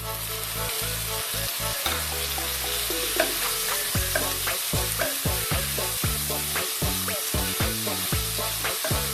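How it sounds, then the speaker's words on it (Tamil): Tomatoes and green chillies sauté in a hot pan for paneer butter masala, with a steady sizzle of frying under repeated rhythmic stirring and scraping and no talking. "இது கூட 3 தக்காளி, 2 பச்சை மிளகாய் வச்சிருக்கேன், அதை சேர்த்து வதக்கிட்டு"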